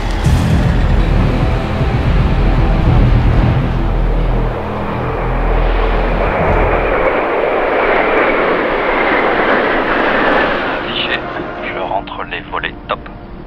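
Patrouille de France jets and an A400M aircraft fly over, a loud, broad engine roar passing overhead and slowly fading, with a voice talking over it.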